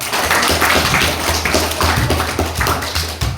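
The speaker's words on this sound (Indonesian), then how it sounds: "Tepuk tangan dulu." Classroom students clapping together in a dense burst of applause, loud and sustained for a few seconds with no talk over it.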